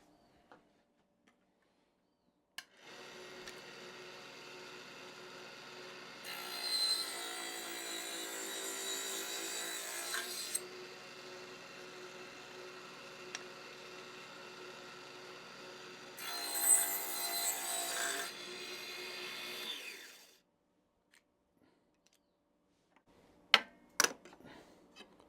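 A saw runs steadily for about seventeen seconds, slicing thin wooden strips for a model ship's forecastle bulkhead, with a louder, harsher stretch in the middle and another near the end before it stops, then a few clicks.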